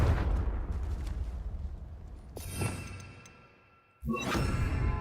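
Confringo spell cast in the Hogwarts Legacy-style video game: a whooshing magical blast followed by a loud explosive burst, with a second sharp blast near the end over continuous game rumble.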